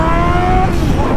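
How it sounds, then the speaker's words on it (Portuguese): A Yamaha XJ6 turbo motorcycle revving hard in second gear on a street, its engine a loud, close, steady rising drone with no speech over it. "Agora empinou em segunda, só acelerando."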